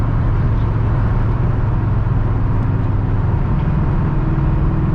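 A 2001 SVT Cobra with 4.10 gears, 18-inch wheels and 295 rear tyres accelerates hard, its loud, steady engine roar dominating throughout with no breaks.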